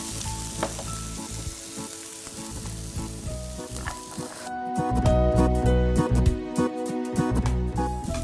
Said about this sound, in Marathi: त्याच्यामध्ये थोडी लाल शिमला मिरची आपण घालूया कॉर्न बेबी कॉर्न घेतलेलं आहे गाजर हरभरा